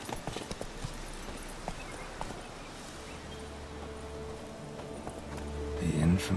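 In The Witcher 3, the horse Roach gallops with a rapid, uneven clip-clop of hooves that carries through the clip, and a voice cuts in briefly near the end.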